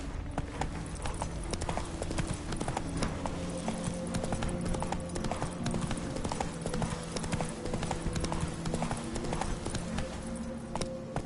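Roach, a horse in The Witcher 3: Hearts of Stone, trots with steady, close hoof clops that run unbroken through the whole stretch, with no talk over them.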